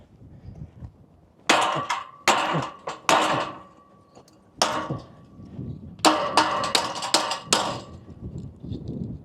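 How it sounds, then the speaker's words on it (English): Heavy hammer blows striking a steel e-scooter lock, sharp metallic clangs in quick clusters of two to four, loud and close with brief ringing between strikes. "Let's give it a couple more hammers for fun."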